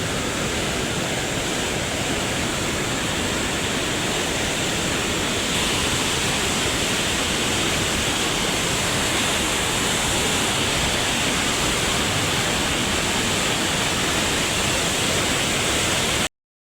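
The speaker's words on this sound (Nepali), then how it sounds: "खोला बढेर यति ठुलो भयो," A swollen mountain river rushes loudly and steadily on a trek in the Everest region between Phakding and Monjo, a dense, unbroken roar of torrential water with no voices.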